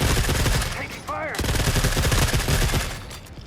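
Gunfire in the video game The Forever Winter comes as loud, dense rapid bursts during a tank battle, with a brief whining mechanical tone in the middle of the barrage.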